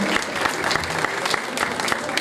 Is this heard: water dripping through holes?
no